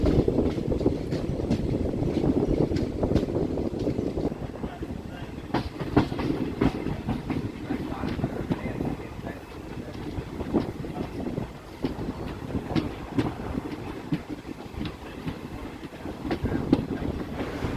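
An express train rolls on the rails near Karaikudi junction with a steady loud rumble, rhythmic clickety-clack of wheels over joints and wind buffeting the microphone, continuous throughout from on board.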